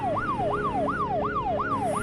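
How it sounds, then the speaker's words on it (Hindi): Police siren in a horror story, a wailing tone sweeping up and down in steady repeated cycles, loud and continuous with no talking. "अचानक मुझे पुलिस की सायरन की आवाज आई।"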